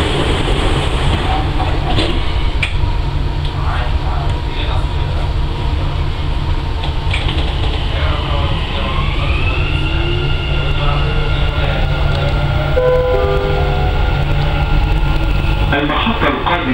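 A Dubai Metro Green Line train runs along the track with a steady loud rumble and clatter, its motor whine rising and sweeping in pitch as it accelerates, with faint voices in the carriage.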